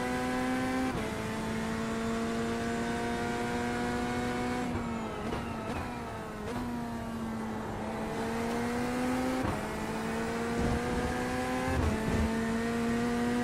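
Race car engines in the iRacing sim game drone and rev steadily throughout, with pitch shifting up and down through gear changes and a Corvette among the field, heard alone without talk.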